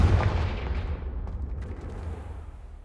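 A Confringo spell explosion in Hogwarts Legacy bursts with a heavy low boom at the start, then rumbles and fades over a few seconds.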